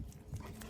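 An excited dog on a farm during milk recording, giving a few quick faint yips and whimpers against a low background rumble, with no talk.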